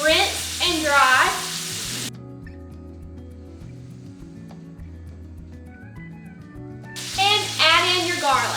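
Steak sizzles in a pan with melting butter and thyme over medium-low heat, a steady frying hiss running throughout with faint music beneath and bursts of nearby talk at the start and end.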